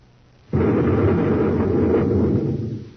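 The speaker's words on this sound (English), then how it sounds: "A space grenade" A space grenade detonates in an old radio drama, a sudden loud blast that erupts after a quiet moment and rolls on as a sustained heavy roar before starting to fade.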